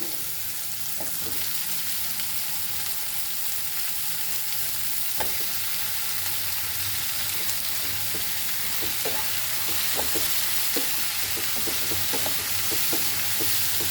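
Cauliflower leaf bhaji with tomato frying in a pan for a Goan dry sabzi, a steady close sizzle with scattered crackles and light stirring clicks throughout, no talking.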